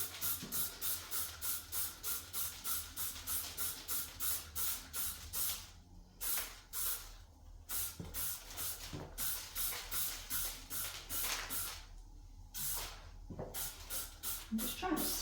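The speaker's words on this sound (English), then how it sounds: "I'm just trying to spray along the wall here." A handheld bottle sprays cleaner along a tiled wall in a house, with rapid repeated trigger pumps making hissy bursts, pausing briefly twice before resuming, close and fairly loud.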